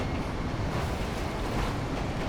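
Train in GTA V rumbling along at a steady, loud level, a continuous rolling rail noise with no speech over it.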